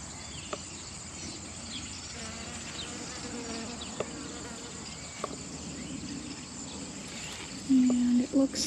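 Bees working among flower heads in a garden, a steady close buzzing hum running through the whole stretch with a louder drone near the end as one passes right by.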